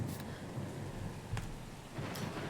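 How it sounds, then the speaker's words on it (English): Thunderstorm in the video game Pillars of Eternity II Deadfire: steady rain hiss with low rumbling thunder underneath and a few short sharp crackles, continuous and fairly subdued. "The storm's pretty loud."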